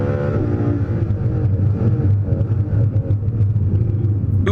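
Ferrari LaFerrari engine on the Fiorano race track, a loud, close, deep rumbling drone with rising harmonic tones as it powers out of a turn, continuous throughout.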